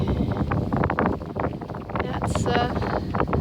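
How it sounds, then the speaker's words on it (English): Gusty wind buffets the microphone outdoors, a steady rumbling roar with rustling, under a person talking throughout. "it's a tad bit windy out today"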